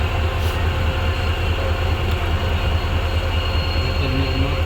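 A passenger train creeps slowly backward, producing a loud, steady rumble of wheels and carriages that runs continuously at close range with no one talking.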